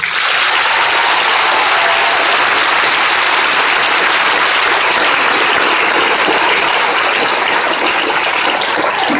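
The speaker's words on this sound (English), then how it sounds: "So your cadre deserves a huge round of applause." A large graduation crowd at a youth academy applauds the academy cadre, a loud, sustained roar of clapping that stays dense and even throughout.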